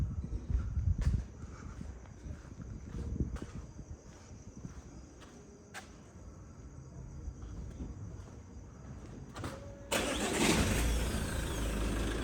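A car engine cranks and catches after a series of quiet clicks and handling sounds, then runs with a louder steady roar for the last couple of seconds.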